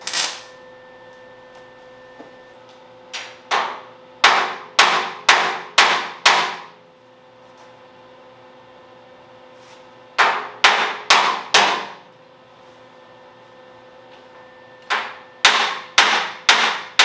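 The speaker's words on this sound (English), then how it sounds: "then I'm going to tap it in with a hammer" Hammer tapping on the welded edge of a Camaro door skin, sharp metallic strikes in quick bursts of three to five separated by pauses, close and loud with a faint ringing hum underneath.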